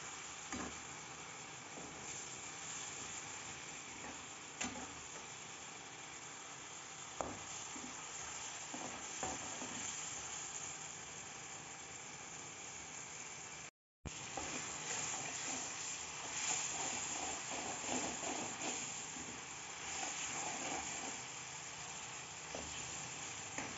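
A steady, loud sizzle of garlic ginger paste frying in a hot pan over full heat, with occasional stirring scrapes and a brief dropout midway.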